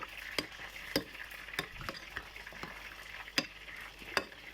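Spoon stirring sauce gribiche with pickles and pepper in a bowl, faint soft scraping with a series of small irregular clinks against the bowl, no talk.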